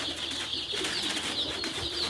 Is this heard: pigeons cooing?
yes